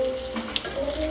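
Cheese balls fry in hot oil in a small kadhai, a soft bubbling sizzle over a brief moment with a faint tonal hum beneath.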